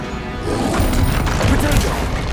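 A Bombarda blasting spell explodes in the Hogwarts Legacy video game, giving a sustained, crashing boom that swells after a brief quieter start and stays loud to the end.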